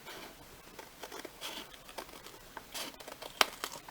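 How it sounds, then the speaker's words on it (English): Scissors snip and paper crinkles while excess scrapbook paper is trimmed away, a close, quiet run of small cuts and rustles with one sharp snip near the end and no talking. "Trim off the excess of paper."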